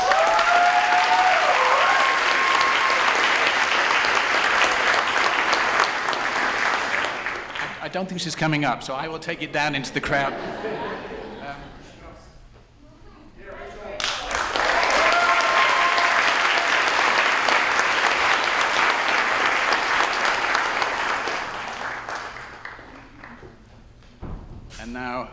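Loud, sustained applause fills an awards convocation hall in two long waves, with a brief lull between them where a voice speaks over scattered clapping.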